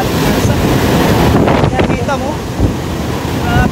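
Super typhoon Uwan in Baras, Catanduanes: loud, steady wind roaring and buffeting the microphone, with a constant wash of rain and faint voices in the background.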